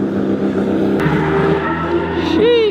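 A 2JZ-swapped Nissan 370Z runs with a steady, loud engine drone that holds throughout, its pitch shifting slightly and rising near the end, sitting close by with a voice briefly under it.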